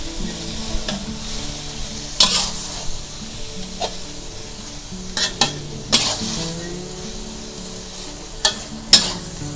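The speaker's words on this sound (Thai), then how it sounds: "น้ำตาลทรายค่ะ1ช้อนโต๊ะนะคะ คลุกเคล้าให้เข้ากันค่ะ" Garlic pork with sugar is stir-fried in a pan, with a continuous sizzle broken by a few sharp scraping and clanking strokes of the spatula at uneven intervals, close and moderately loud with no voices.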